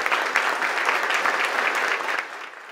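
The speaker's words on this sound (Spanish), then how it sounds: "el comandante Daniel Ortega fue recibido de pie y con aplausos por más de 200 empresarios" More than 200 business leaders in a hotel ballroom standing and applauding Daniel Ortega, a dense close burst of clapping that eases slightly toward the end.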